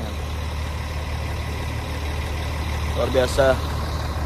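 Bus engine running steadily from inside the bus, a loud continuous low drone with a person speaking briefly near the end.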